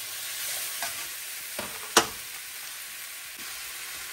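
Spices fry in a pan for a Bengali-style egg omelet curry as a spoon stirs them in short scraping strokes over a low sizzle, with one sharp clink when turmeric powder is added.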